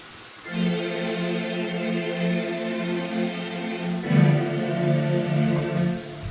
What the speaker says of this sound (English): What you're hearing is my Korg XL.